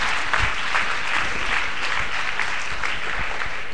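Dense audience applause fills a hall, a steady, loud wash of many hands clapping together without pause.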